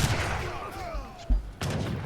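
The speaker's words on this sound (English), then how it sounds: "2 Hussars and Musketeers just going in, shooting the Falconet" Musket gunfire in the real-time strategy game Age of Empires III, as hussars and musketeers shoot at a falconet cannon. Several sharp reports go off among clashing battle noise, with one louder crack near the middle and another burst at the end.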